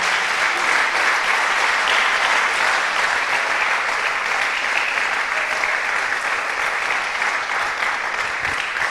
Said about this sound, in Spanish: dele otro aplauso al Señor ahora